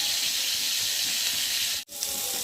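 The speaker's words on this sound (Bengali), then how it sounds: "চলো কপিটাকে ভালো করে ভেজে নিই।" Cauliflower fries in a pan for bhoger khichuri, a steady hissing sizzle close up that cuts out for a split second near the end and then resumes, with no speech.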